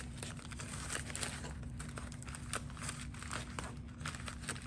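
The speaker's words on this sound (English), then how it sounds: "So then I'm going to just start taping this." Tape is pulled and pressed around a paper mache armature, giving faint close crinkling and tearing rustles in uneven bursts against a quiet background.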